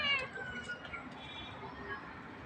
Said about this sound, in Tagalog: Sobrang maraming pusa dito.